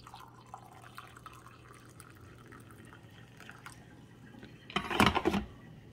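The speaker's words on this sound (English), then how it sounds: "so now let's pour ourselves a cup of coffee." Coffee pours from a Cuisinart DGB-650BC Grind-and-Brew thermal carafe into a cup, a brief burst of liquid splashing near the end after quiet background noise.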